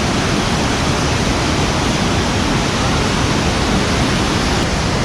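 Hot spring water gushing out at Manikaran, a loud, dense and continuous rush of water with no pauses, heard close up.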